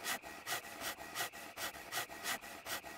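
A hand saw cuts through wood in SCUM, roughly ten even back-and-forth strokes in a steady rhythm, close and clear with no talk over them.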